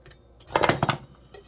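A knife rocks and slices on a cutting board, making a short cluster of quick, close tapping clicks that lasts under half a second and is followed by quiet.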